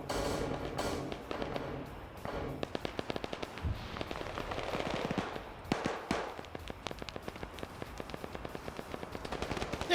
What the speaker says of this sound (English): They're still shooting at each other.